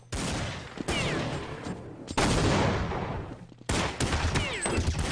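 Bursts of rapid gunfire in the video game Counter-Strike, on the de_tuscan map at an IEM tournament match. Three loud, dense volleys are separated by short breaks, with no speech over them.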